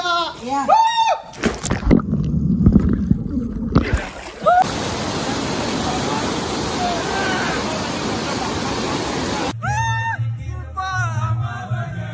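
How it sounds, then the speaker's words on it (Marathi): Rushing water pours in suddenly at a farmhouse, a loud steady wash of noise standing alone for several seconds, framed by people talking before and after. "अचानक पाणी आलेलं आहे इथे आता"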